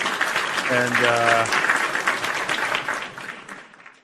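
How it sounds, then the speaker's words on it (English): Live podcast show audience bursts into loud applause and cheering, with a host's voice speaking over the clapping at the start before it fades out. "Round of applause to the PWT universe."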